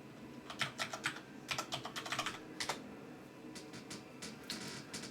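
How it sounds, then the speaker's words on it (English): A password is typed on a computer keyboard in a few quick clusters of close, light key clicks separated by short pauses, with a soft background hum and no talking. "Type in my password."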